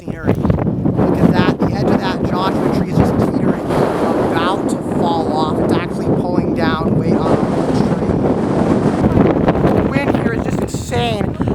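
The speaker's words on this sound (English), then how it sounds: "a gust of wind hit and it felt like somebody just pushed me in the back. It's really strong up here." Strong gusty wind sweeps over a hilltop in Rainbow Basin, buffeting the microphone with loud continuous rumble and roar, while a person talks through it almost the whole time.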